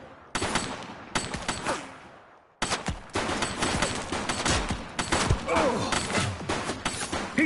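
Rapid bursts of automatic gunfire in the police game The Precinct, loud and close, with a brief gap early on before sustained, dense shooting resumes and continues to the end.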